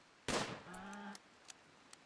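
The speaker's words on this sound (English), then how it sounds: "Shoot that muffalo" A single sharp gunshot in the game Rimworld, fired at a muffalo, followed by a short ringing tail and a few faint clicks afterward, with no talking.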